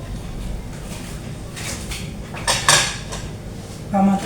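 Dishes, pots and pans being added in a home kitchen, with a few sharp clinks and clatters of crockery, a louder bump near the middle and another near the end, set against low background noise.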